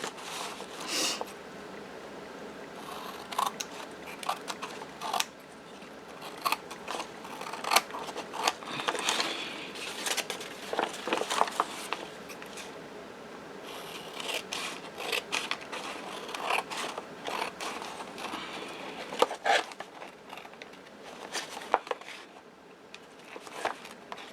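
Scissors trim excess paper from a junk journal page, a long series of close, crisp snips and sliding cuts with short pauses between strokes, no one talking.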